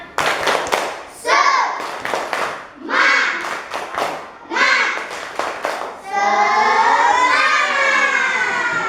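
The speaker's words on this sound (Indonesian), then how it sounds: "Kita tepuk semangat dulu. Tepuk semangat." An elementary class claps in a quick rhythmic spirit-clap pattern, sharp hand claps in bursts, then ending in a sustained group shout or chant.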